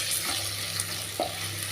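Raw moong dal fries in a pan, a steady, moderate sizzle under a low hum with a single clink of stirring partway through.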